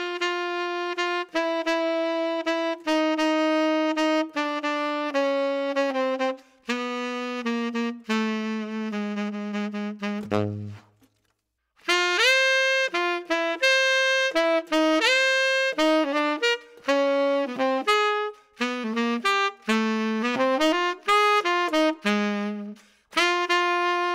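A single melodic voice-leading line of guide tones traced through a bebop tune, played alone as steady sustained notes, loud and close, with one brief gap near the middle.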